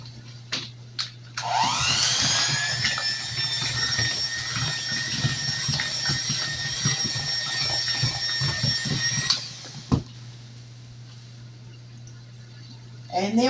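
An electric mixer whirs loud and steady for about eight seconds, beating hummingbird cake batter with mashed banana in a home kitchen, with a voice speaking over it and a low hum throughout.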